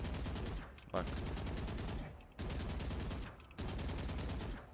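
Automatic gunfire sprayed in a shooter video game, three long rapid bursts of dense, evenly spaced shots separated by brief pauses, loud and close, with a short spoken word between bursts.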